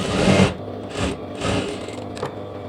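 A sewing machine stitches a quarter-inch seam on a lehenga blouse hook strip in three short close whirring bursts, each under a second, with brief gaps between.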